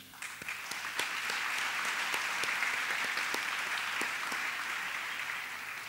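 An audience applauds at the launch of the 150th anniversary activities of USJ, with crisp individual claps standing out above a steady, even roar of hands that holds for several seconds.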